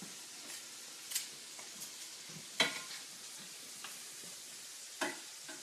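Shrimp for General Tso's dish sizzles steadily in a hot pan, a constant close frying hiss broken by a few sharp scraping stirs and clinks, with no talking.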